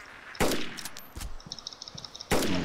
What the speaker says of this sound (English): Oh, gunshots.